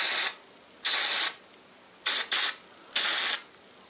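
Short hissing bursts of aerosol spray paint coating a 4-watt preheat fluorescent strip light in blue, four or five close pulses with brief gaps between them.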